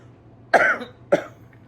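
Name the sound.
cough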